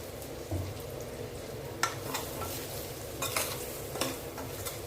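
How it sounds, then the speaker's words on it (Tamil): A pan of frying Indian gooseberry pickle, village style, sizzling steadily and close up as oil goes in, with a few sharp stirring clatters and no talking. "இப்போ இதில் கொஞ்சம் எண்ணெய் ஊற்றுவோம்"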